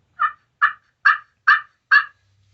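Five evenly spaced yelping notes from a glass-surfaced pot turkey call played with a hardwood striker, each a short raspy cluck-yelp, close and clear with silence between and no talking.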